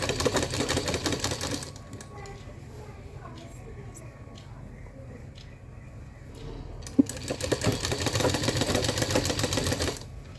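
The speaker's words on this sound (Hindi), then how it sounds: "ऐसे घुमाते जाएंगे और फिर इसकी स्टिचिंग करते जाएंगे" Electric sewing machine stitching shalwar fabric, a steady close mechanical whir that runs, pauses briefly in the middle while someone talks, then resumes with a sharp click.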